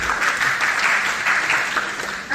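Applause from an audience at a national conference at Islamia University, a steady wash of many hands clapping close and loud for a couple of seconds with no talk over it.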